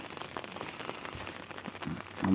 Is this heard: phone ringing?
no